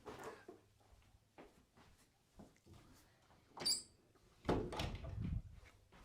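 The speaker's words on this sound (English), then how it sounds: "Oh, I haven't shut the office door." An office door is pushed shut indoors, giving one solid thud with a brief rattle after a few soft footsteps and small handling knocks. It is moderately loud and close, with no talk over it.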